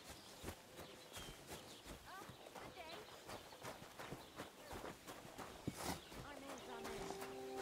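Horse hooves clip-clop steadily on the ground in the medieval video game Kingdom Come: Deliverance 2, a close, rhythmic walking gait that runs throughout while voices talk over it.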